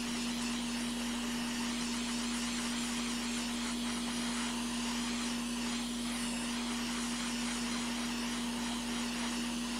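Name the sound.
hot air rework station blowing on laptop motherboard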